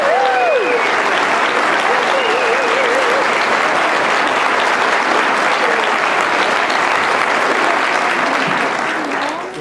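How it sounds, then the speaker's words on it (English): A graduation audience gives a round of applause to respiratory students, full and continuous clapping from a large crowd with a few cheers and whistles rising above it. "Please join me and give them a round of applause."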